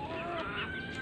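A Jersey Giant chicken on a backyard farm gives a short, honking call, brief and moderately faint.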